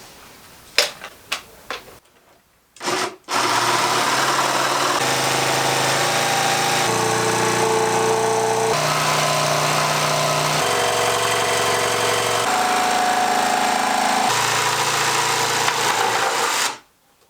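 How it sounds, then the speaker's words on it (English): A loud power saw cutting a large hole in a kitchen worktop runs continuously for about fourteen seconds, its pitch shifting as it cuts, after a few sharp knocks and a short silence. "it's time to cut this giant hole into my worktop"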